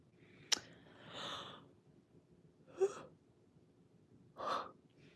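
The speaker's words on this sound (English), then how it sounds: "I swear I need to stop yawning" Drawn-out yawns from one person late at night, a sharp click followed by two or three soft, breathy open-mouthed exhalations spaced a couple of seconds apart, close and quiet.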